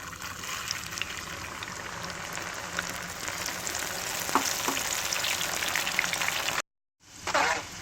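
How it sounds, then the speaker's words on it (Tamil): Peanuts deep frying for nei kadalai, a steady close bubbling sizzle of hot oil with faint crackles that runs unbroken before cutting briefly near the end. "இனிமேல் இதை பொரித்து எடுத்துக்கலாம்."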